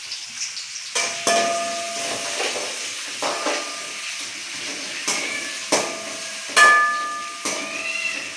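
Chopped large onion and green chilies with cinnamon sticks sizzle and fry steadily in a pan, a constant close hiss broken by periodic stirring scrapes and soft clinks throughout.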